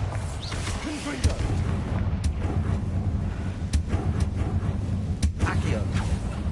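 Confringo fire spells from the Hogwarts Legacy video game go off in a series of sharp blasts, with about five distinct cracks spaced unevenly over a steady, rumbling game backdrop.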